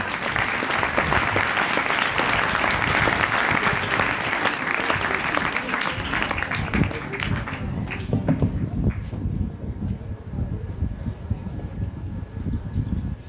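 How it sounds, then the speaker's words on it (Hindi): Loud, dense applause from a crowd at a school morning assembly welcomes students onto the stage, sustained for several seconds before gradually thinning out, with no speech over it. "जोरदार तालियों से स्वागत किया जाए।"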